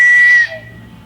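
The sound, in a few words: whistle sound effect from video game MLB 2001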